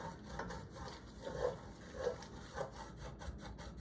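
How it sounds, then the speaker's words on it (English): A utensil scrapes the bottom of a pan as it is deglazed with dry wine, heat off, for onion soup, giving faint, rhythmic rubbing strokes about every half second, quiet and close with no talking. "I'm just going to work the bottom of the pan and scrape up all of that beautiful color and flavor"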